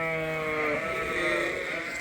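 Sheep bleat in a pen holding mostly white sheep and bottle-fed lambs, one long bleat near the start followed by overlapping calls, close and steady, with faint voices in the background.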